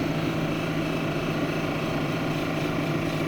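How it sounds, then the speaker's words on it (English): A Brazilian agate stone is held against the outside edge of a heavy grit grinding wheel, giving a steady, loud, unbroken whir of motor and abrasive with no pauses. "I can do it on the heavy grit on the outside edge"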